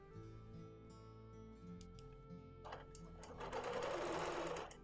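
A sewing machine doing free-motion quilting hums steadily nearby, its motor whir rising and growing louder toward the end as stitching speeds up.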